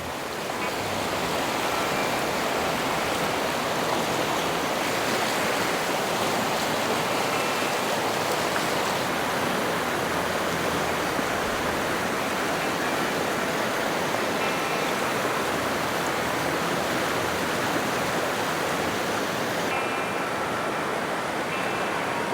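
Small creek with clean water flowing steadily in a mountain setting, a continuous broadband rush of running water, close and even in level throughout with no voices.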